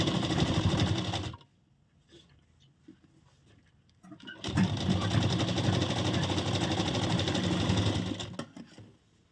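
Sewing machine stitching the front panel of a princess-cut, broad-neck blouse, running in two steady bursts with a pause between, loud and close, with a brief voice in the gap.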